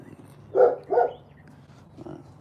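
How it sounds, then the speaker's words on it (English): A large dog barks twice in quick succession, then gives a softer third bark, heard from a short distance just inside a house doorway. "That's my big dog."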